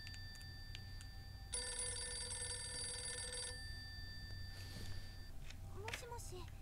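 An old-style telephone bell rings in a continuous two-second burst in the horror video game Haishin, set against a quiet, murky ambience with faint game noises and brief rustles afterward.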